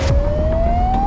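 A loud, continuous ambulance siren tone rising slowly in pitch over a low rumbling background.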